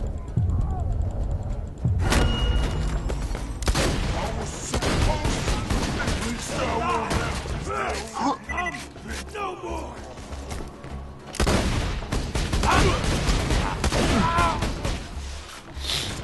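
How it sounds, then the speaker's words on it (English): Rapid, dense gunfire and explosive thuds from a minigun-like launcher in the video game Borderlands 2, in continuous loud bursts with game effects and players talking over the action. "Look, this is uh my gun firing."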